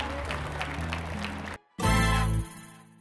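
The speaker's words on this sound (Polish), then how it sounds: "Jeszcze raz nagrodźmy je brawami" A pageant audience applauds its contestants: a burst of loud clapping starts after a brief silence, swells fully for about half a second, then fades. Background music plays before and under it.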